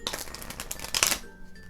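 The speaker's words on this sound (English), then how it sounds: "give those cards a bit of a shuffle for me" A deck of cards being riffle shuffled, a quick burst of rapid flapping clicks that ends abruptly, close and clear.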